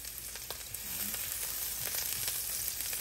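Garlic fries in a pan with a steady, close sizzle that crackles on through the stretch and grows slightly louder partway in, with no one talking.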